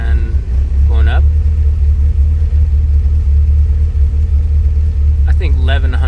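Toyota AE86 with a 4AG engine on Megasquirt sequential ignition and injection, idling around 800 to 1100 RPM as a steady low rumble close by, with brief talk near the start and end.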